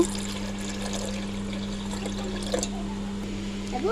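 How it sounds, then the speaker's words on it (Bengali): Water is poured into freshly squeezed orange juice sweetened with a little sugar, giving a soft continuous liquid trickle close by over a steady low background hum. No one speaks. "তো আমি এখন সামান্য পানি অ্যাড করব"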